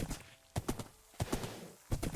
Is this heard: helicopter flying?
no